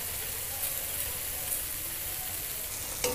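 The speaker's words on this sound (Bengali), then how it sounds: "লো ফ্লেমে রেখে মশলাটাকে ধীরে ধীরে কষিয়ে নেব।" Ground spices and cumin frying in oil on a low flame: a steady, soft sizzle with faint crackles and occasional stirring scrapes, close and continuous, with no voices.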